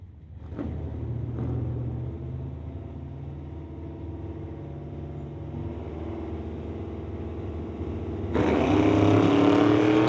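Drag race cars, a Chevelle and a Meteor, rumbling at the line in a Summit ET bracket race, then a sharp surge of loud engine roar as they launch down the quarter mile.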